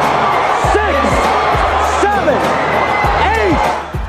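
Boxing crowd in a Trenton arena reacting to a Roy Jones Jr. fight, a loud, steady roar of voices with rising cheers and shouts swelling throughout, with commentary-like voices underneath.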